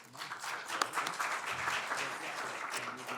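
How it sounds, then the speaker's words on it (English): At a Sacramento city council meeting, people in the chamber give a warm round of applause, steady overlapping claps at moderate loudness lasting throughout, with faint talk underneath. "Let's give him a big round of applause."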